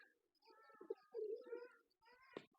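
Soft, close cooing of a male pigeon in a few throaty rolling phrases, fairly quiet, with a brief sharp sound near the end.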